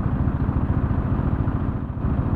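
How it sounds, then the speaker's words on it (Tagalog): A 1000 cc motorcycle engine thrums nearby with a steady, loud, pulsing rumble, running continuously without a clear rev change. "Ang lakas ng tunog ng makina eh."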